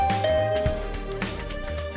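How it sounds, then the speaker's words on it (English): A doorbell chimes in The Hundred Line, a short ding-dong tone near the start, set among game music and other soft electronic sounds. "Better ring the bell first."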